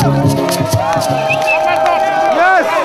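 An audience at a street demonstration in The Hague applauds and cheers for a singer, a dense steady wash of clapping and crowd hubbub with voices and singing-like tones over it throughout.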